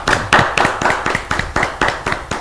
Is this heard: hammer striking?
no